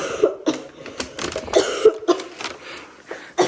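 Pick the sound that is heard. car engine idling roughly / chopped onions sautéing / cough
cough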